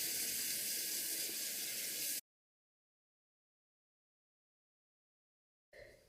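A small skincare item is rinsed under running tap water, a close, bright hiss of flowing water for about two seconds before it cuts off abruptly, then a brief return of water at the end.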